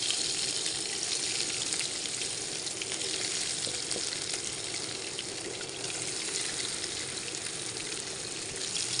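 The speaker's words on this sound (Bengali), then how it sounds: "মাছগুলো ভাজা হতে থাকুক।" Pieces of snakehead fish fry in hot oil with a steady, dense sizzle that runs unbroken and fairly close throughout, with no voices.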